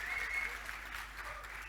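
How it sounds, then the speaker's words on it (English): An audience applauds at a tech conference talk on Testcontainers integration testing, a short burst of moderate, fairly distant clapping that stays even throughout. "Oh my God, people are clapping."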